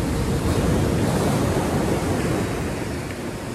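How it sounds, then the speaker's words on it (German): Ocean surf breaks on Spain's northern coast, close and loud. It is a continuous roar of rushing water with wind buffeting the microphone, and it eases slightly toward the end. "da sind schon ein paar gute Brecher dabei"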